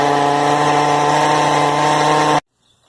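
A Poulan Pro weed eater's small two-stroke engine runs steadily and loud at close range with a constant buzzing drone, then cuts off abruptly, leaving near silence.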